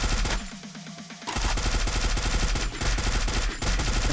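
Rapid automatic gunfire in the shooter game Free Fire, loud dense bursts of shots with a short pause near the start, then sustained rattling fire with brief gaps.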